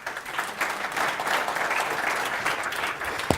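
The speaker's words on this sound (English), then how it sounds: "Give him a nice round of applause." An audience claps steadily for a volunteer called up to the stage at a live show, producing a dense, even round of applause with no talking.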